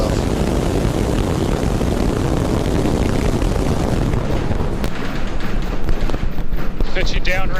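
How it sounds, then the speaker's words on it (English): SpaceX Starship rocket on Flight 12, moments after liftoff, with a loud, continuous broadband engine roar that fills the whole clip and crackles harder toward the end, while a voice speaks over it. "We have liftoff."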